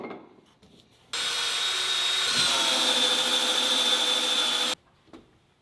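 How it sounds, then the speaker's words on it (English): An oscillating multi-tool trims wooden studs, giving one loud, steady high-pitched buzzing cut of about three and a half seconds that starts and stops abruptly, with quiet room sound before and after. "I grabbed the multi-tool, which has to be the most annoying sounding tool"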